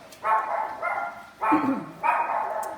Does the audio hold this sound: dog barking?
yes